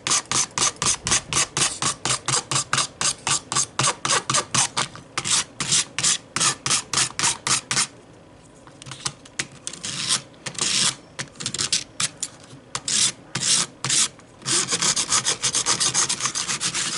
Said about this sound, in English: So I'm just scraping this across the deck.